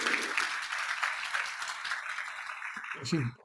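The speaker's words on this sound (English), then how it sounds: "let's give her a big round of applause" Steady applause from a conference audience fills the clip, dense and even, then fades out near the end.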